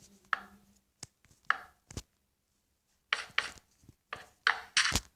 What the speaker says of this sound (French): là, vous mettez des bibliothèques.